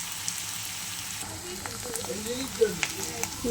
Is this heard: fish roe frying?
yes